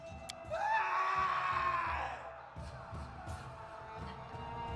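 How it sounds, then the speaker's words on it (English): In the fantasy role-playing game Pathfinder: Kingmaker, a single drawn-out scream rises sharply, holds for about a second, then fades beneath a low, rhythmic background of game ambience. "And we heard the scream."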